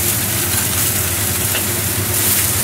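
Rice noodles stir-fried with char siu and other ingredients in a hot wok, a loud, close, continuous sizzle and crackle with a low burner roar beneath, holding steady throughout with no speech.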